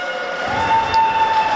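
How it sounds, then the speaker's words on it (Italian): A buzzer sounds during a wheelchair basketball game, a steady sustained tone that starts partway through and holds to the end over noisy arena background. "suona la sirena"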